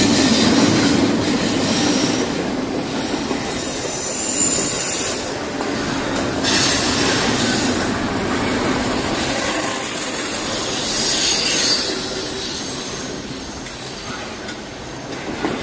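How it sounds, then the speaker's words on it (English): A long freight train rolls steadily past with a continuous rumbling roar, rattling cars and faint wheel squeal, no break in the noise. "This train must be a couple miles long, as these often are."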